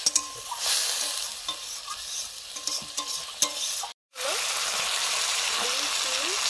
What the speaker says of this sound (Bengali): রেড চিলি পাউডার, জল দিয়ে মশলাটা কষে নিচ্ছি।